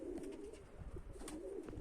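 A racing pigeon cooing softly and repeatedly, low and close, with a steady hum of background noise.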